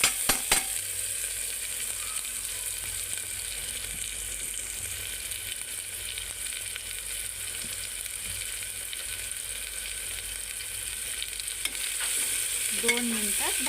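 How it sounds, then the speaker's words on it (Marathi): Tomato and onion frying in a pan, a constant moderate sizzle held for a long stretch with occasional faint utensil taps and a scrape near the end. "टमाटर भाजलं, कांदा भाजलं, खरबूज छान कलर आलाय."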